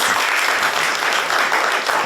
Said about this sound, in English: But please give our filmmakers a huge round of applause.